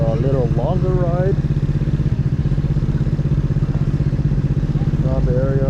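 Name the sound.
Honda Dio Z4 scooter with GY6 155cc engine running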